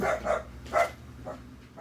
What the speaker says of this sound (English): all 3 of my dogs start barking